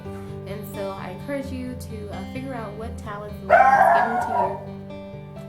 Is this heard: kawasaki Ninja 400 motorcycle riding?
no